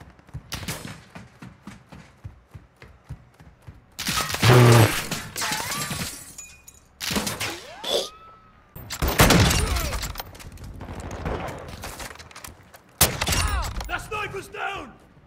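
Bursts of gunfire in a Call of Duty video game on PS5, loud sharp volleys and rattling fusillades broken by short gaps, with excited player voices shouting between and over the shots.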